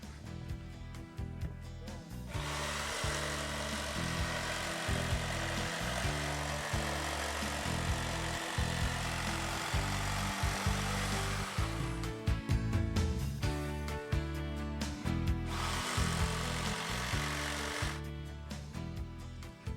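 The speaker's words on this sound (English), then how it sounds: "I'm just going to grab my jigsaw and cut." A jigsaw cuts a router table top template with a loud, steady buzzing rattle that runs in long stretches, stopping briefly twice before starting again, close by and with no talk.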